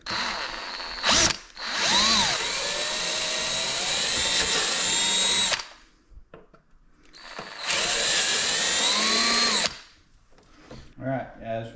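A power drill bores 3/16-inch holes for fitting a carbon fiber halo on a C7 Corvette. It runs in two loud, close bursts of several seconds each, separated by a short pause, with rising and falling motor whine.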